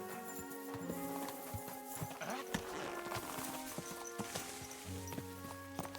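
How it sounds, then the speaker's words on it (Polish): A horse in the video game Kingdom Come: Deliverance, its hooves clip-clopping in a quick, uneven rhythm, with a neigh breaking through near the end, moderately close and quiet overall. "Konia wołam, whistluję"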